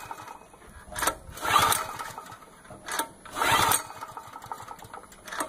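A DuroStar DS4000S gas portable generator being pull-cranked to start: two separate rasping cranking bursts, a couple of seconds apart, close and moderately loud, without the engine catching.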